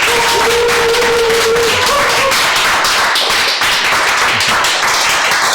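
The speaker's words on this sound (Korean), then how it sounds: "큰 박수로 환영해 주시면 감사하겠습니다." A seated lecture audience at a forum claps in welcome, a dense, loud burst of applause that continues steadily throughout, with a brief tone in the first seconds.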